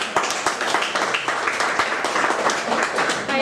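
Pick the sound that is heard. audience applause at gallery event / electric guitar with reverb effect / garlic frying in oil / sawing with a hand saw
audience applause at gallery event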